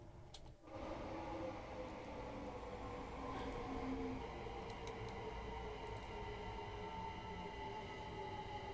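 A London commuter train running in Train Sim World 2, a steady close rumble of wheels and motor with a soft ticking rhythm and faint tonal hum, continuous throughout.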